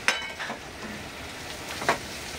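Tomato and green chilli pieces sautéing in an open pan over low heat give a soft, steady sizzle, with two brief clicks of the spoon against the pan. Quiet and close, with no voices.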